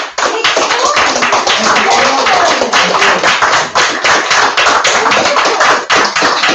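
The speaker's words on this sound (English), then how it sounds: "we'd like to give a very rousing round of applause for the newly married and very happy mistress" Wedding guests at Chewton Glen Hotel applaud the newly married couple with loud, close, continuous clapping. Crisp individual claps stand out within the steady ovation throughout.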